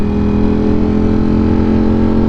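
A loud motorcycle exhaust drones at close range, a steady, brash low rumble held at constant high volume for the whole stretch, with no talking over it.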